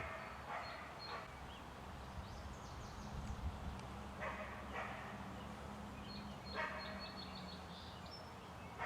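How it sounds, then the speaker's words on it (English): A dog barks repeatedly in the distance, short yips coming in scattered bursts over a steady low background rumble. "that dog is so annoying"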